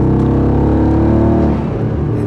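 An 850 hp car surges through a quick sprint, engine note climbing in a loud, steady burst before easing off after about a second and a half.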